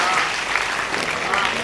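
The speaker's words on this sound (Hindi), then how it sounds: "बस इसी तरह से तालियां बजाते रहिएगा" Audience clapping at a Hindi comic poetry recital (hasya kavita), a steady, dense burst of applause from a crowd filling the whole moment, moderately loud with no pauses.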